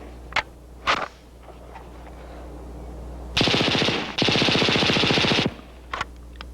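An HK-21 machine gun at a 1970s firepower demonstration lets off a couple of sharp single shots, then two long, loud sustained bursts of rapid automatic fire with a brief gap between them, followed by two more isolated shots.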